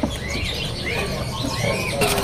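Prinia birds at a bird market give repeated high chirps and short tweets in a steady run, near and fairly clear, over a busy market background with no talk.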